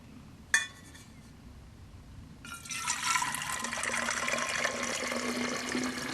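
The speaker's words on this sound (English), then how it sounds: "And I hope I can pour this in here without spilling too much of it." Water poured from a GSI cup into a stainless pot for a stove boil test, a steady splashing pour starting mid-clip after a short clink, close and continuous with no talk.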